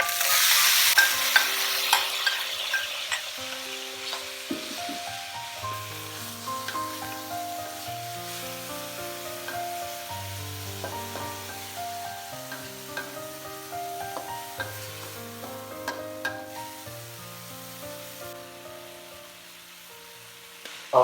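Tomatoes stir-fried in a pan for Chinese hot and sour soup give a steady sizzle with stirring scrapes that stays continuous over background music throughout.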